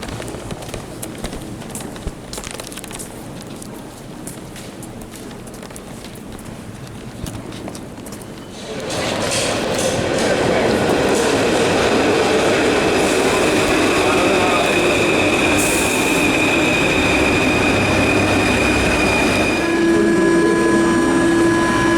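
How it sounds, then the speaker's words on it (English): A Paris Metro train rides the rails on the way to Gare du Nord, with quieter station ambience first, then a loud, steady roar of wheels and rails that holds to the end, with faint tonal squeals high up. "Last time we'll say a Paris Metro train."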